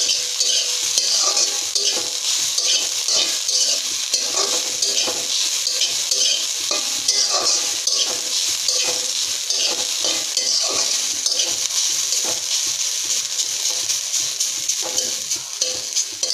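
Steady sizzling with frequent scraping and stirring of mustard greens in a large wok, continuous and fairly loud throughout, no talking.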